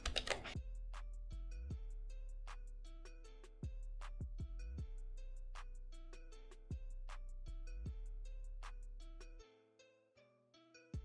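Typing code on a computer keyboard: close, crisp key clicks in uneven bursts and single taps, quiet and alone with no talking.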